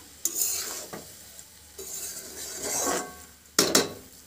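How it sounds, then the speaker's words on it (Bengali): Chicken and tomato rice stirred in a pan with a spoon, scraping and rasping strokes in bursts against a soft sizzle, close by and with no talk. "আবারও এটাকে হালকা হাতে নেড়ে নেবো"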